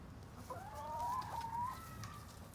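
A chicken gives a single drawn-out, wavering call near a hanging cabbage the flock is learning to eat, heard faintly against a quiet outdoor background with no talk.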